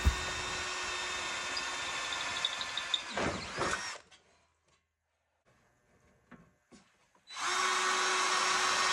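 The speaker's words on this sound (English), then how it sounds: "we're going to just drill new holes and fasten it to the rad." A power drill bores new bolt holes in the fan shroud of a Massey 35 tractor radiator with a Continental Z134 engine: a loud, steady whine for about four seconds, a quiet gap with light clicks, then a second burst of drilling.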